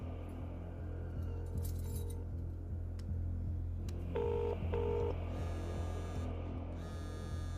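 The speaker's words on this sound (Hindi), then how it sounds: "चल फोन लगा उसे।" A couple of short telephone keypad tones beep in quick succession over a steady low hum, with faint higher tones following.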